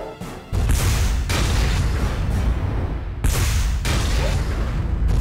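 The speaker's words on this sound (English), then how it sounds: "Wow, that's horrible accuracy on the cannon." Cannon fire in the PS2 game Front Mission 4 lands as heavy booming blasts, one near the start and another about midway, each followed by a sustained loud roar, with no talking.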